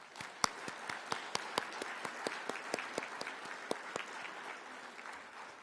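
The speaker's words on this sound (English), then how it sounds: "Let's give them a round of applause." A crowd applauding steadily at an academic summit, many hands clapping together in a dense, sustained wash with a few sharper claps standing out.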